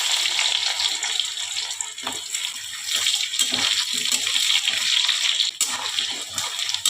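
Diced potatoes sizzle loudly and continuously in hot mustard oil with cumin seeds and bay leaves. The dense hiss is steady and close, with small crackling fluctuations.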